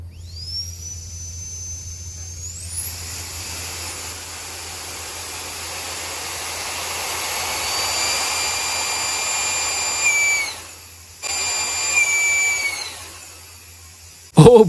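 A tiny electric ducted fan jet engine on a thrust test spins up with a rising whine into a loud, steady high-pitched scream, with a few chirping pitch changes, a brief cut-out near the end and a sharp final burst.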